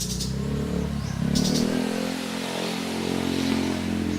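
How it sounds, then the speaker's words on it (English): Motorcycle engines hum and rev nearby, passing at moderate distance with a steady low drone and brief higher clatter. "Competing with the motorcycles and the roosters."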